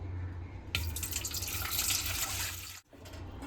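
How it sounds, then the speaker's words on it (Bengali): Tap water runs steadily into a bowl in the kitchen for a few seconds, a continuous close splashing rush that stops abruptly near the end. "বাটির মধ্যে দিয়ে দেব বেশ কিছুটা জল"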